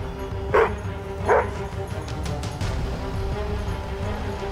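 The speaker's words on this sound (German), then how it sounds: "Mit lautem Gebell zeigt er an" A rescue dog working with a DLRG search team in bramble-covered terrain barks loudly to signal a found person. Two sharp, close barks come in quick succession, followed by quieter outdoor background noise.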